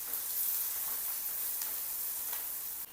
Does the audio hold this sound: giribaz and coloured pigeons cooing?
no